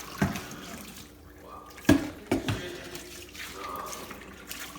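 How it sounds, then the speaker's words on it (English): Hot tap water running into a sink while groceries are rinsed, a steady close splashing stream with a few louder knocks and clunks as items are handled. "Now I'm rinsing it with the hot water."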